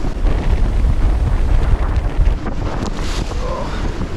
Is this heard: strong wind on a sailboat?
yes